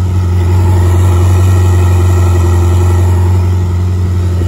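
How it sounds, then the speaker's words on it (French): A Ferrari 458 with its V8 and sport exhaust idles close by, a loud, steady, even drone that holds unchanged throughout with no revving or speech. "le bruit du V8 il est incroyable"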